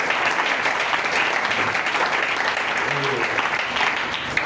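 Congregation applauding during a church worship service in praise of the Lord, steady dense clapping throughout, moderately loud and close, with voices mixed into the crowd noise.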